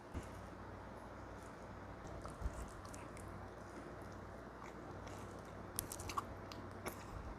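Soft, close chewing of Domino's pizza sprinkled with Tabasco sauce, quiet mouth sounds with a few sharper crunchy bites standing out from the low, steady background.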